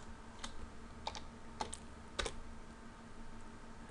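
A few separate keystrokes on a computer keyboard, a sparse run of quiet clicks near the mic while entering a formula in Microsoft Excel, with no talking.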